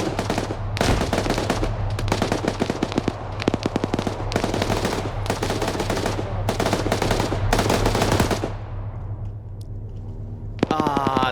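Sustained bursts of loud machine-gun fire from a military shooter game hammer on for about eight seconds, fading into a quieter tail before one more sharp burst.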